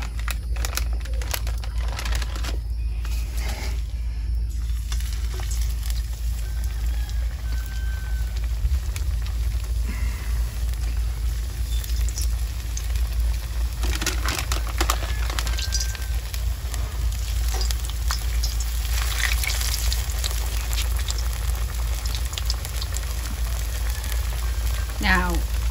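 Food sizzling and crackling steadily in hot oil during old-time homestead cooking, a loud continuous fry with scattered pops and occasional utensil clinks, close up and unbroken throughout.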